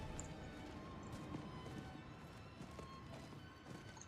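A horse's hooves clip-clop steadily in the Diablo video game, faint and even-paced under a low background hum, with no talking.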